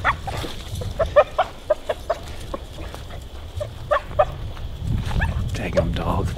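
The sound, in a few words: dog barking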